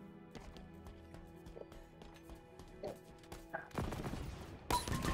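Ricochet gun firing in a multiplayer shooter game, sharp repeated shots in quick bursts that grow louder and denser toward the end, heard over quiet background game sounds.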